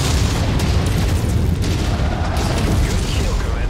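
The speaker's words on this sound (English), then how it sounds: "how would you like a bunch of missiles right to the face?" A volley of missiles bursts against a target in the mech combat game Mechwarrior 5, making a dense, continuous rumble of overlapping booms and blasts that stays loud and steady throughout.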